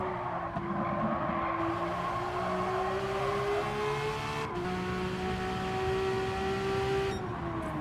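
A built car accelerates hard around a racetrack toward the final corner, its engine a loud, continuous rising drone with a gear change midway and another near the end, close and alone without talk.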